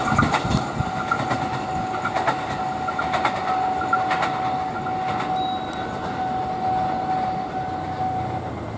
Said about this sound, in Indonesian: Ini sepertinya kereta api Jayakarta